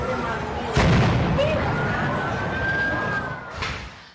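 Archival news recording of a gas plant explosion in Los Ríos, near a school: a sudden loud, broad rumbling blast that holds as sustained roaring noise with a faint siren-like tone, under a news soundtrack with voices.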